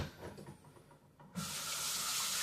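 Tap water runs steadily into a sink as dishes are rinsed, a sudden broad hiss that starts partway through and holds loud and even after a few quieter clinks and handling sounds.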